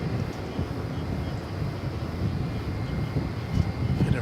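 An American Airlines jet takes off at DFW Airport at night, a low, rough engine rumble swelling slightly over a few seconds, moderately distant and steady.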